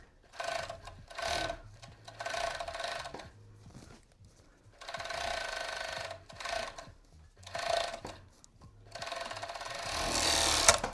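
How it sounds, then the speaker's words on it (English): A serger stitches an elastic waistband onto a pair of smocked pants in repeated bursts, each run of machine whirring broken by short pauses, close and clear with no talking. "we're just going to go ahead and serge all the way around"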